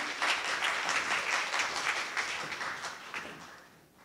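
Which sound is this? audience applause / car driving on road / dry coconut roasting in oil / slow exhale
audience applause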